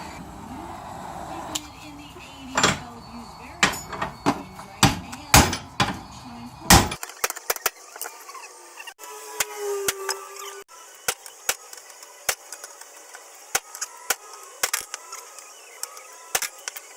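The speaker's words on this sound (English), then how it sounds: "you want to hit the knuckle with a hammer until the LCA drops out" Sharp metallic hammer strikes on a car's steering knuckle ring out repeatedly at irregular intervals, loud and close, with a brief clatter as the lower control arm drops free partway through.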